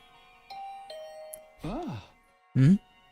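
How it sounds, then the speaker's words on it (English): Doorbell in The Hundred Line video game giving a short two-tone chime, heard alongside voiced game speech and a few faint tinkling tones in a quiet scene. "Wait, how does the doorbell still work?"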